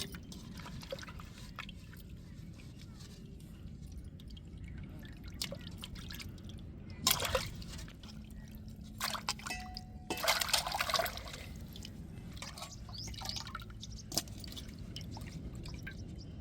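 Water poured over cut fish drips and splashes unevenly against a steady trickling background, with a few louder sloshing bursts, close by and fairly quiet.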